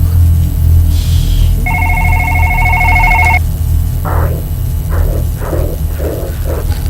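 A telephone in the video game One Late Night rings in two long electronic trills, then a series of shorter repeated tones follows, all over a low steady hum.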